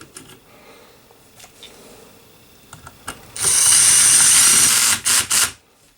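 A power tool driving a small bolt into the housing of a DeWalt DCS578 FlexVolt 7 1/4" circular saw, a loud whirring burst after quiet clicks and handling, followed by two short pulses.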